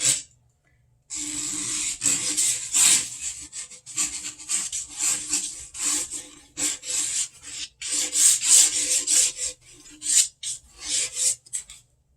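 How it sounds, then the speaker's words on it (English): A palette knife scrapes and rasps repeatedly through a thin layer of cold wax mixed with oil paint, giving close, dry, gritty strokes in quick bursts with brief pauses between them. "this is just another palette knife, and do some marks in it and scrape down to some of that color that was in there"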